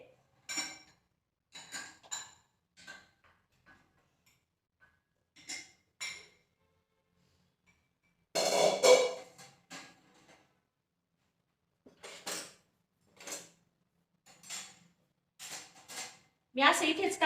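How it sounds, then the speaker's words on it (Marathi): Intermittent clinks and clatters of dishes and utensils being put away and stacked in a kitchen, close by, with quiet gaps between knocks. "आणि आता भांडी लावून घेते"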